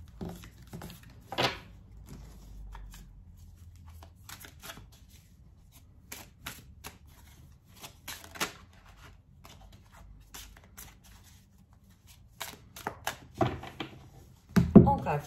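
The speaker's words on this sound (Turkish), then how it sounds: "Kart alayım hemen buradan." Tarot cards being shuffled and drawn on a table, with quiet, scattered riffles, slaps and taps in irregular bursts, mostly faint against near silence.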